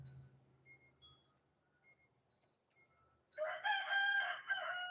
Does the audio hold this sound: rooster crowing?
yes